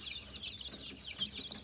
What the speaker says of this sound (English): And then over here is all the 1 week old chicks.